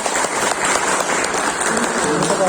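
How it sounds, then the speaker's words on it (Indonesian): Audience applause for the regent at an afternoon meeting with traders, a dense continuous clapping from a crowd, loud and steady throughout. "mari kita berikan aplaus pada Ibu Bupati kita"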